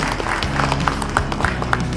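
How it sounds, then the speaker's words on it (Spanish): Applause for the team of teachers at an institute graduation ceremony, a steady patter of clapping hands filling the hall for about two seconds, with faint voices mixed in. "Fuerte las palmas para nuestro equipo."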